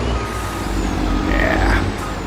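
A milk truck parking in Farming Simulator 22, with a steady engine rumble, a high reversing-style tone and a brief hiss of air brakes near the end, close and continuous.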